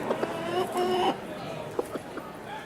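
Chickens cluck and croon nearby in a short burst, with a few sharp clucks standing out over a busy barnyard background.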